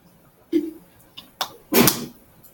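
A sneeze in a classroom, one sharp burst near the end preceded by a few brief smaller sounds, close and fairly loud in an otherwise quiet room.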